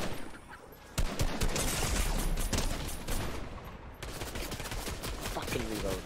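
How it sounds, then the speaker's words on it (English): Rapid shotgun and gunfire bursts in the video game Fortnite, a dense volley of sharp cracks and booms with a brief gap before the shooting resumes, loud and close. "Oh, the prime shotgun's in, Gib."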